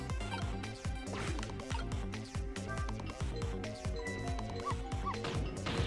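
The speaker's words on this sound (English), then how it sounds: "So the dog barks at rats." A dog in the video game Ghost Rick: Phantom Attorney barks over and over in quick, steady yapping bursts, set against looping game music.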